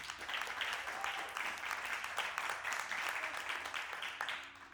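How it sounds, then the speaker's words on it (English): An audience at a conference claps steadily, a dense, moderately loud patter of many hands sustained for nearly five seconds without talk. "Give them a hand clap."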